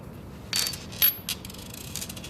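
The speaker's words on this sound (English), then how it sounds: "Remove the two nuts of the bolt." Metal clinks and a ratcheting rattle come from nuts being removed from the swing arm bolt of a CB250F Templar motorcycle, a few sharp close taps with short mechanical clatter between them.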